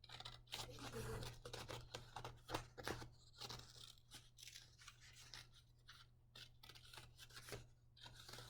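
Scissors cutting along a folded line in a sheet of paper for a simple craft, a run of close, crisp snips and rubbing cuts repeating unevenly over a steady low hum.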